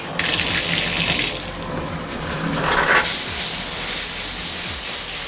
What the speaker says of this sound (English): let's turn on the water first